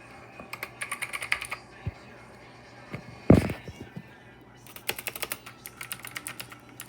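Keys clatter on a Black Shark gaming keyboard in bursts of quick, close clicks, with one louder thump partway through and a steady low hum underneath.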